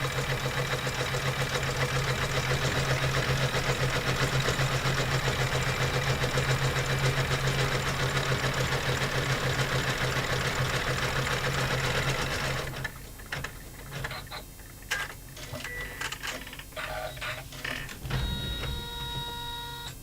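Embroidery machine stitching a design onto a laptop bag, a loud steady rapid mechanical whir for about twelve seconds before it stops, leaving scattered clicks and clatter of the machine settling.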